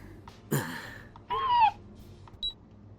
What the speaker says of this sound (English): An alarm sounds from the monitor on the control panel.